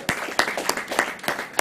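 A church congregation claps together in brief bursts of applause, a ragged run of close, sharp hand claps lasting only a moment.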